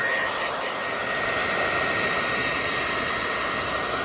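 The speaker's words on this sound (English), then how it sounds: "So heating this up, you're just getting the best adhesion that you can get between the two surfaces." A hot air gun heats an RV roof and a piece of roof repair material, giving a steady, loud broadband blowing hiss with a faint high whine that runs unbroken throughout.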